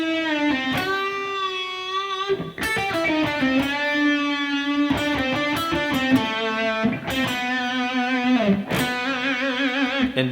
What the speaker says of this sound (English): So your first section here is all in that minor pentatonic box with those cool bends.